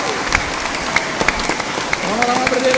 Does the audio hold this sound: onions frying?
no